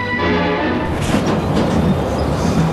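Leningrad metro train running on the system's opening day in 1955, a steady broadband rumble and rattle of the cars that holds even and fairly loud throughout, with no voices.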